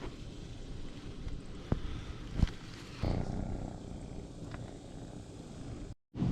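A cat purring close by in a garage during a 1971 Plymouth Satellite engine mount job, a low steady rumble running throughout, with a few sharp clicks and knocks over it.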